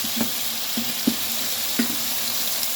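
Eggs poured into a pan of stir-fried bitter melon, giving a soft steady sizzle with a few brief clatters and taps of utensils at a moderate, close distance, no talking.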